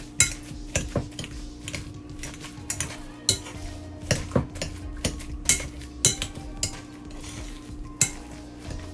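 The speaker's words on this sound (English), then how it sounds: "I decided to go and get my masher" Potatoes worked with a potato masher in a bowl or pot for a potato cheese pancake, a rhythmic run of close, sharp metallic knocks and scrapes at roughly half-second intervals, without talk.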